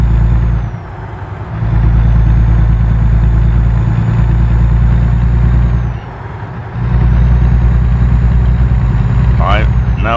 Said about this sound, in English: For the motor, the engine struggles.